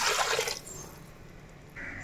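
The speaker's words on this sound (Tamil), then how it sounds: "ஸோ இப்போ நம்ம தண்ணி சேர்த்துக்கலாம்" Water poured into raw rice in a pressure cooker for a mushroom rice dish, a bright splashing burst for about half a second, then a quiet settling trickle with a faint later swish.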